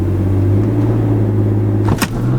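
A stock BMW 335i at a drag strip launch, engine droning loud and steady with deep rumble, then a sharp burst near the end as the tires break loose and spin.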